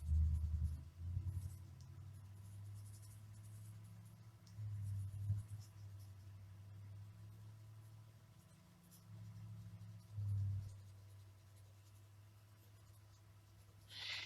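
Colored pencil shading tree foliage on paper in a lime green tone: continuous soft, low scratchy strokes in repeated swells, close and quiet, with no voice.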